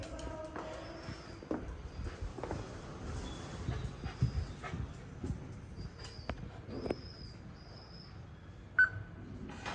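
A dog back home from a walk gives soft whimpers and small yips, faint and scattered among quiet indoor shuffling and rustling, with a few brief louder sounds.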